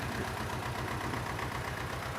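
A C330 tractor engine runs steadily as the tractor drives out of a garage, a loud, even low chug with a regular rhythm, close up and without voices.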